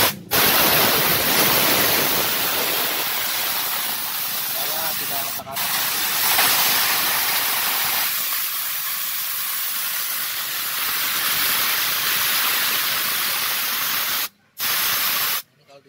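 Pressurised air blasts out of a Shark air compressor fitted with a quarter-inch T branch, a loud, steady broadband hiss that runs almost unbroken, lightens partway, then cuts off near the end before a brief final burst.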